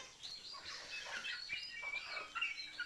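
A flock of poultry chickens eating leftover food clucks and chirps continuously at close range, a busy overlapping chatter of many birds with no one speaking.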